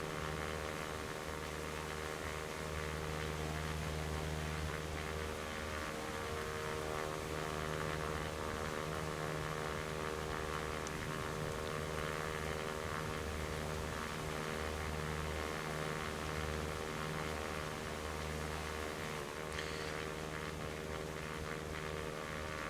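A steady propeller aircraft engine drone in the X-Plane flight simulator, flying over Kaunas, a continuous humming tone with stable harmonics, unbroken and moderately faint from start to finish.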